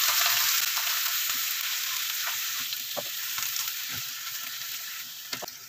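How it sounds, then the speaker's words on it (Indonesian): Garlic sautés in hot oil with a bright, close, continuous sizzle, easing slightly over time, with occasional light taps and scrapes of stirring. "Minyaknya udah panas. Ini aku tumis bawang putih ya."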